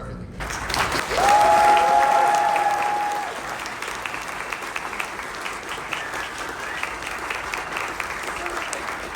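Audience applause at a live panel on making The Last of Us at IGN Live 2025, a broad crowd clap that swells early, then settles into a steady, moderately loud wash of clapping that continues to the end.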